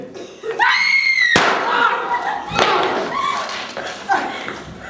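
A stage gun fires in a rehearsal of The Petrified Forest, one sharp bang after dialogue and shouting voices, with further thuds and commotion under raised speech on stage.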